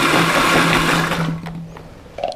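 A food processor whirs loudly while pulsing tomatoes, then cuts off and leaves a short quiet tail with faint clatter.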